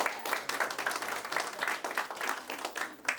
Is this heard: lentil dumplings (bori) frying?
no